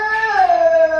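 A dog howls in a steady, loud, close tone, one sustained howl with a slight falling pitch, with no one talking over it.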